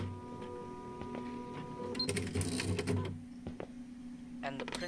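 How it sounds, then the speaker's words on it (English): A malfunctioning office printer in the horror game One Late Night grinds and clatters mechanically in a faint burst in the middle, with whirring, stuttering pulses under a quiet background hum. "And the printer is derping."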